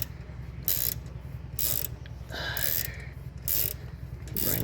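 A double box stubby flex-head ratcheting wrench clicks steadily as it is cranked, a close, fast pawl chatter running throughout with a few louder bursts of motion between strokes; no voices.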